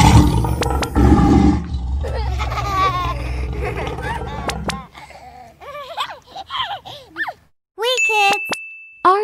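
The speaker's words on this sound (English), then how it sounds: "How a mother lion roars?" A lion's roar is heard in a children's drawing and coloring lesson about wild animals, first as a loud rumbling burst, then as a series of shorter rising and falling roar-like calls with a bright chime near the end.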